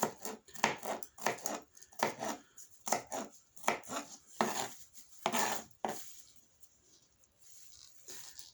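Rapid knife chopping on a board while preparing spaghetti, a run of crisp close strikes in quick bursts for several seconds, then a pause with a softer scrape near the end.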